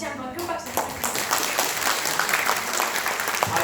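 Applause breaks out at an event in the National Assembly after a brief moment of someone speaking, then a steady mass of many hands clapping continues to the end with a few sharper claps nearby.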